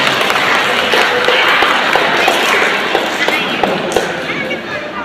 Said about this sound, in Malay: Kita berikan satu tepukan gemuruh kepada mereka